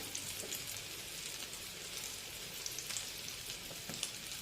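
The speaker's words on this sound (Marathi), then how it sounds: "आणि दुसरी बाजू सुद्धा व्यवस्थित फ्राय करून घ्यायची।" Egg bread patties, bread topped with an onion and tomato egg mixture, fry steadily in oil in a pan, giving a continuous close sizzle with small crackles and no voices.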